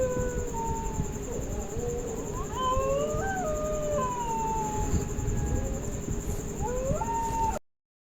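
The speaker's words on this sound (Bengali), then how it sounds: "বাইরে ঝিঝি পোকার ডাক আর বাতাসের শো শো শব্দ রাতটাকে" Eerie wind howling through a dark night in a Bengali ghost cartoon, a steady wavering moan of rising and falling whistling tones over a constant rushing bed, loud and unbroken for about seven seconds before cutting off.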